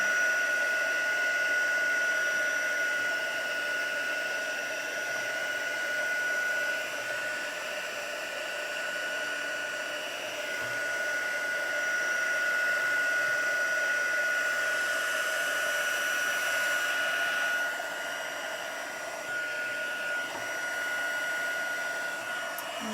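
Craft heat embossing tool blowing steadily for over twenty seconds, a close, continuous whooshing fan roar with a thin whine, no talking.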